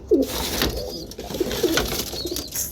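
Domestic pigeons in a loft cooing close by, a few soft throaty coos spaced through the moment over a quiet background with faint rustling.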